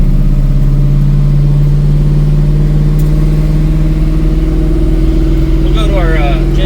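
A 1965 Ford Mustang engine runs loud and close with a steady throaty drone, held at a touchy gas pedal with a slight rise in revs toward the end, while people talk over it.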